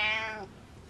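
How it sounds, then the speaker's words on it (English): A cat gives a single short meow close by that trails off after about half a second, followed by quiet. "Meow. You poor thing."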